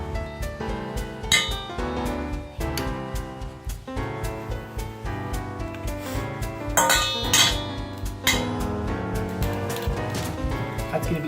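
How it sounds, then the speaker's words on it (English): Roasted pumpkin is scooped from a pan into a bowl, with repeated metallic clinks and scrapes of a utensil against dishes in an irregular rhythm, close and fairly loud, with children's voices chattering underneath at times. "Can you start to scoop the pumpkin out and put it in the bowl?"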